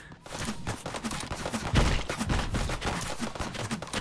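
Rapid gunfire in the VR shooter Hot Dogs, Horseshoes & Hand Grenades, a dense run of overlapping shots with one heavier blast midway, loud and close throughout.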